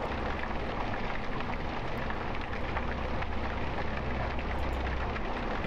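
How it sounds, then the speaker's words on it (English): Steady rain pours down in the horror video game Night Watch, a constant dense hiss with no breaks and no voices. "The rain is stopping."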